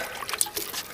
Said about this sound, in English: So you know, you put some water in there,